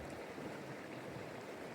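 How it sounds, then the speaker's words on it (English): Steady broadband roar of a waterfall in New South Wales bush, a continuous rush of falling water filling the scene evenly from start to finish with no voices. "we made it to the waterfall"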